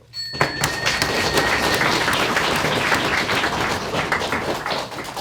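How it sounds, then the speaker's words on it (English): An audience at a debating championship semifinal in Copenhagen claps steadily, a dense sustained round of applause that stays strong throughout before tapering slightly at the end. "let's have another round of applause for everybody in the round"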